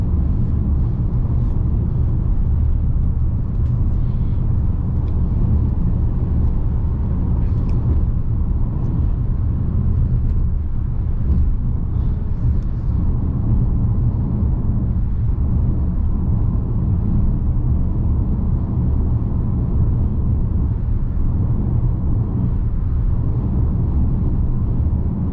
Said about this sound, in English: if you want to get an idea of road noise